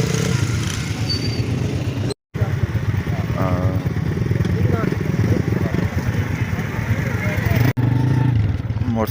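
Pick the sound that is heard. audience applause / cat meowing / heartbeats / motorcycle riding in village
motorcycle riding in village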